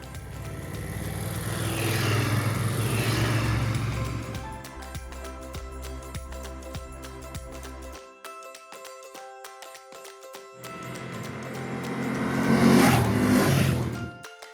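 BMW F750 GS and F850 GS adventure motorcycles climbing a mountain pass in Spain, engines swelling and fading as the bikes ride by, with a steady drone, a gap in the middle and a loud pass near the end.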